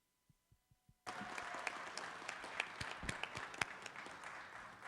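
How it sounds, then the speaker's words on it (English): A few isolated claps, then a burst of applause from a city council meeting audience that breaks out and keeps going steadily at close range. "So please give Jovid a very warm round of applause for his actions that day."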